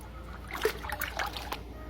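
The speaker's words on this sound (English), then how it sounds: "And get it all stirred up." Moonshine mash being stirred after glucoamylase enzyme is added, with soft liquid swishing and splashing in a few brief surges, close and quiet, no voices.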